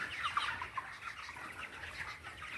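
Young meat chickens, about 25 days old, cluck and peep in a coop, a busy overlapping chatter of soft calls at moderate distance with a steady background murmur.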